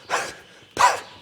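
A person vocally imitates a dog barking, giving two loud, short bark-like bursts with a third starting at the end, close and clear with no other talk.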